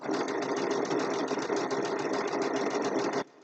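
A sewing machine stitches quilting fabric for a Tula Pink block, running at a steady rapid clatter for about three seconds before stopping abruptly, close and loud with no talk.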